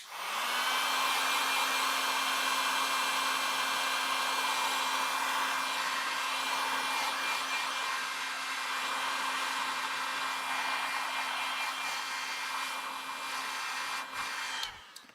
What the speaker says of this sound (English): I need an extension cord to bring the heat gun closer